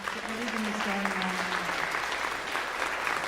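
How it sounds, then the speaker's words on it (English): Audience applause for a live band at a summer music festival concert, steady dense clapping throughout, with a held vocal-like tone briefly sounding beneath in the first half. "give a round of applause for our beautiful band"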